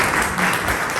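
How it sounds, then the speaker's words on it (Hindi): A congregation claps together during a church sermon, dense steady applause filling the whole short moment. "एक यहाँ पे खुदा के लिए तालियां बजाने दो उसको।"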